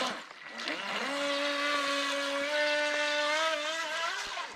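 A small RC boat motor runs steadily on open water, starting with a rising whine and then holding a loud, continuous buzzing drone throughout, with slight pitch shifts as it turns.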